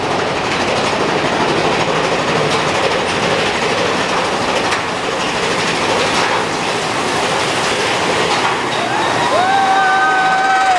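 A Disneyland roller coaster train runs with a loud, continuous rumble and rattle of wheels on track, and brief wheel squeals rise near the end.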